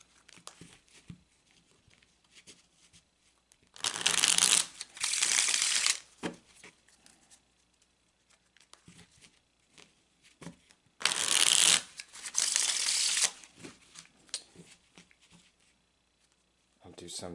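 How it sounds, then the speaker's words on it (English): Tarot cards are shuffled by hand in two separate crisp, riffling bursts of about two seconds each. Near-silence lies between them, with only faint handling rustles. "So I'm shuffling that into the cards."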